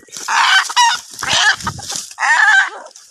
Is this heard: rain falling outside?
no